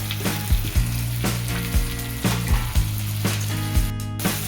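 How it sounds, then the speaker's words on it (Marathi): Cluster beans with tomato sauté in a pan, a steady close sizzle with periodic stirring scrapes at a regular rhythm, no talk. "आपली गवार परतून झाली आहे"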